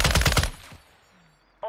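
Kastov 74u assault rifle fired in Warzone 2, a short, loud, rapid burst of automatic gunfire that cuts off into near silence, then a brief sound returns at the end.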